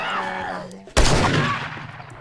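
A single loud, booming burst of gunfire in the survival video game 7 Days to Die, ringing out after a brief stretch of quieter background noise.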